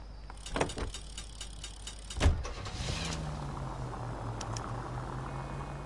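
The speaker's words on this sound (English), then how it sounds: "Nice car, Roy. Is it department issue" Vintage car in the video game L.A. Noire: a couple of sharp door or handle thumps, then an engine starts and settles into a low steady idle hum, close and moderately loud, no voices.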